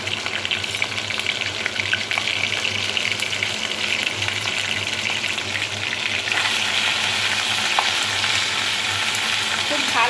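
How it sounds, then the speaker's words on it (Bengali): Ginger paste, whole cumin and coriander fry in a pan with a dense, continuous sizzle and occasional stirring scrapes, steady and close throughout. "ভালোভাবে ভেজে নেব"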